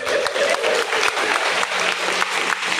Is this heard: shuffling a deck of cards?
no